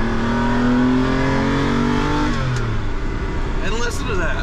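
A 1989 Lamborghini Countach engine revving close by, a loud sustained roar that rises and falls in pitch, with someone talking over it.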